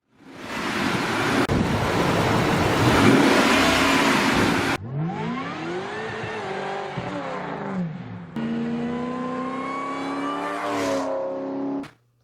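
A 2003–2004 Mercury Marauder's 4-valve 4.6-liter V8 revs, its pitch sweeping up and down after a stretch of loud wind rush, then holding a steadier, rising drone before cutting off.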